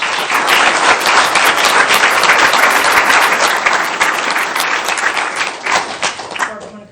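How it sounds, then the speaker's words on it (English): A room full of people applauds at a Manhattan Beach city council meeting for a staff member's award, dense sustained clapping close by, tapering off toward the end. "If you give Barbara a round of applause."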